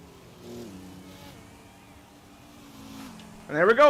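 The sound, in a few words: electric race car whine in video game Forza Horizon 5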